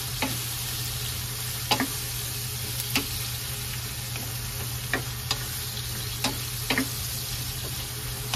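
Ginger and onion sauté in a pan of oil left from frying fish, a steady sizzle under sharp periodic clicks of a utensil stirring against the pan, close and alone.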